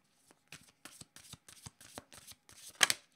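Tarot cards are shuffled by hand in a quick series of crisp riffling snaps about a third of a second apart, ending in a louder flurry. The sound is close and there is no talk.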